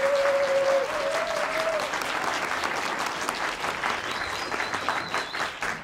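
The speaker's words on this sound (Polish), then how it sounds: "gorące oklaski dla naszych panelistów" Warm applause at a panel discussion on farming practices and climate change, a sustained, dense patter of many hands clapping from the audience, steady and fairly loud before easing slightly toward the end.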